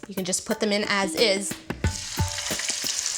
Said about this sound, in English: Love that sizzle. It's one of my favorite sounds.